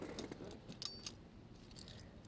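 A bunch of keys jangling as they are fished out before starting a truck with a 5.7L Vortec engine, faint metallic clinks in short clusters over a quiet background.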